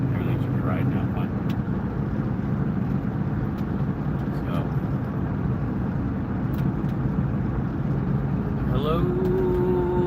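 A car cruising at about 45 miles an hour, a steady low road and engine rumble throughout with someone talking over it.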